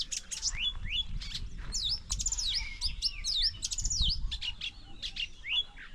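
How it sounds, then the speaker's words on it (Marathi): Birds chirp and tweet busily on a hillside in Sindhudurg in the late afternoon, with quick, bright, overlapping calls close by and no talk. "ती बघा पक्ष्यांचा आवाज."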